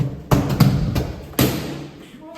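Knocks on a house door come as several sharp thuds: two close raps, a third, then a louder one after a pause, close by and fairly loud with people talking around them.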